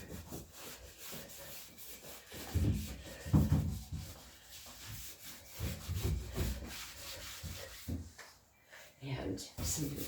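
A buffing brush rubs wax into wood furniture with uneven scrubbing strokes, close and fairly quiet, while someone talks over the work.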